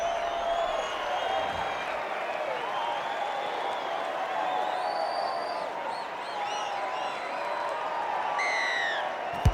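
A large rugby league crowd at a Panthers v Raiders NRL preseason match roars and applauds after a conversion kick, a steady dense wash of cheering and clapping that holds throughout, with a few whistles and whoops near the end.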